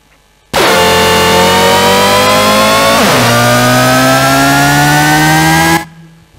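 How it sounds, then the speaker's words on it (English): A synthesized spaceship engine patch made in Massive drones as a loud, buzzy, detuned bass tone, sustained for about five seconds with a pitch drop and slow rise midway, then cutting off abruptly. "We try to just make an engine, basically, which sounds like this."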